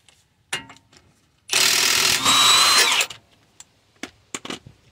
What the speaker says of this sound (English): And now I'm gonna be unbolting the axle here on the passenger side too, like I did with the driver side.